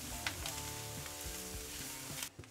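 Grated calabresa sausage and onion sizzling steadily in a frying pan, a close, continuous crackle with small stirring knocks and no talk.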